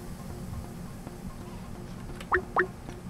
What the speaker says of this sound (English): Let's take a moment to reflect on this dripping sound.